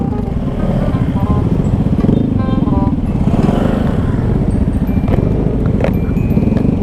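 Motorcycle ridden along a dusty dirt trail between Tagaytay and Batangas near Taal Volcano, its engine droning steadily and close throughout, with clattering over rough ground.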